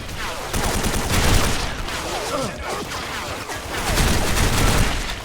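Dense bursts of gunfire from the Special Force 2 video game rattle continuously, with rapid automatic shots and overlapping reports, loud and close throughout.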